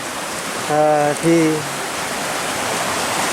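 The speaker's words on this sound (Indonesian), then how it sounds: "Kita sampai di sebuah aliran sungai" A forest river stream near the Jolotundo waterfall rushes in a steady, full wash of flowing water. A voice speaks briefly over it.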